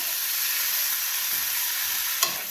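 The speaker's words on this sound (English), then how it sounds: "she will be stir frying the quail" Quail stir-frying in a hot pan for a spicy Cambodian dish, a steady loud hiss and sizzle with a sharp clink of a utensil near the end, no talking.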